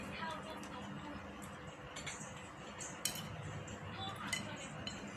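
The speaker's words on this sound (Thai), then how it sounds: "ผัดกุ้ง" A utensil stirring shrimp stir-fry in a pan, with scattered light clinks and scrapes of metal against the pan over a steady background hiss, fairly faint.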